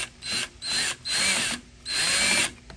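A Ryobi cordless drill drives a screw into a shelf in four short, loud whirring bursts separated by brief pauses, close up with no talking.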